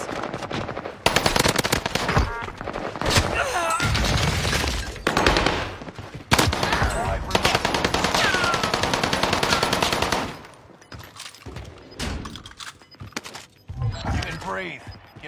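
Rapid automatic gunfire from a first-person shooter game crackles in long, loud bursts with brief pauses, dropping to quieter scattered shots near the end while a player talks over it.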